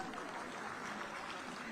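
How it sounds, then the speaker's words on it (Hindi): Steady, dense applause from a large audience, sustained and even throughout. "आप सभी की लगातार जोरदार तालियां"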